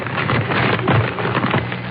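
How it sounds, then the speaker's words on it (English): Paper rustles steadily for about two seconds as a dense, crackly stream of crinkling with small surges. It is a sound effect on a 1947 radio comedy show, close-miked with no speech. "Then, a rustling of paper."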